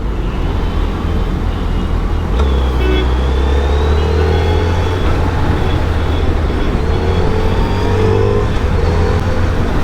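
Dense city road traffic in Chennai, heard from a Suzuki Hayabusa motorcycle: a continuous loud low engine rumble and road roar with vehicles passing and a faint horn-like tone, steady throughout with no talk.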